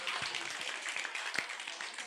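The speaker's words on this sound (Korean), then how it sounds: "네, 박수 한번 주세요." An audience applauds at a church spring outdoor worship seminar: a faint, steady wash of clapping lasting a couple of seconds.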